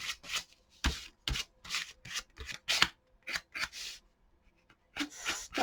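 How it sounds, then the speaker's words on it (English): A credit card scrapes paint across an art journal page in repeated short, raspy strokes, each a dry papery swish, steady and close with brief pauses between passes. "And use a credit card. Just scrape it."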